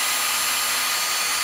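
A power drill whirs steadily as it bores a pilot hole through a full face mask, a loud continuous high-pitched drone with no talk over it.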